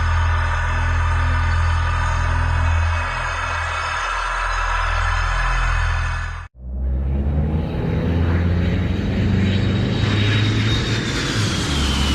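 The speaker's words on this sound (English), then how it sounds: "Australian Air Force planes decided to put on a show for the people below, flying over the coastline just 90 meters above the ground." Australian Air Force planes flying low over a coastline, about 90 metres up, produce a loud sustained engine roar that cuts off abruptly, then returns as a broad, rushing jet noise with a rising whine as the aircraft passes close overhead.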